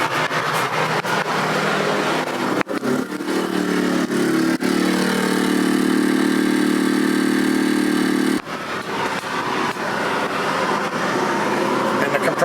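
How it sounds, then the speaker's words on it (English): An RV air conditioner compressor in a Geo Pro 19FBS trailer fitted with an EasyStart 364 kicks on and hums steadily for several seconds, close and loud, amid clicks and shifting mechanical noise. "I heard the AC kick up."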